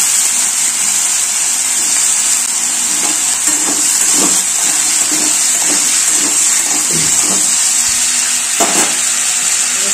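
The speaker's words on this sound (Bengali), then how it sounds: "এর সঙ্গে পেঁয়াজ আর আলু ভাজা ভাজা হবে" Potatoes and onions fry in a pan with a steady, even sizzle that runs throughout, broken by a few soft stirring clatters near the mic.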